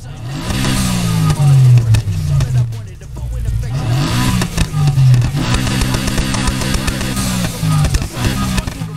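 A car engine in Need for Speed Heat, an upgraded exhaust, revs hard in repeated rising and falling pulls, loud and close, with brief dips between surges.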